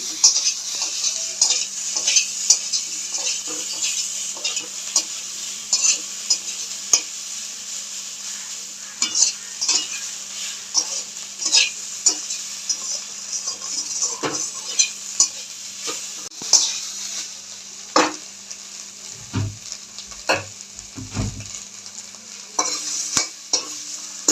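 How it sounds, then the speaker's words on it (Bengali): Soybean chunks fry in a pan, a constant sizzle punctuated by repeated scraping and clinking strokes of a spatula stirring against the metal, close and fairly loud, with no voices. "এবার সয়াবিনটাও আমি তুলে নেব ভাজা হয়ে গেছে"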